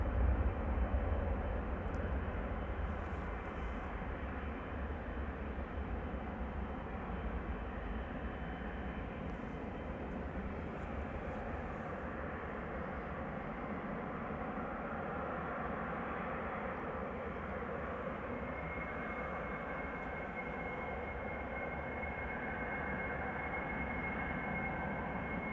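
KLM Boeing 777 airliner taxiing at Amsterdam Schiphol for departure to Mumbai, a steady loud jet engine roar that stays continuous and fairly close throughout, with a thin high whine joining later.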